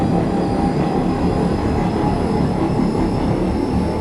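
Continuous rumble of an R168 subway train on the Q local line to Coney Island, from the OpenBVE train simulator game, rolling along the tracks, steady and fairly loud, with no voices.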